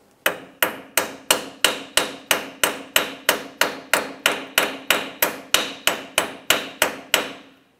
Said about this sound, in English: Give it a couple taps with a hammer to cause some vibration.